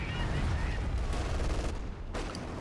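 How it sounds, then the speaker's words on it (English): Mortar fire in the video game Company of Heroes 2, a dense rumbling barrage of blasts and battle noise blended into a continuous roar, fairly faint throughout. "A mortar?"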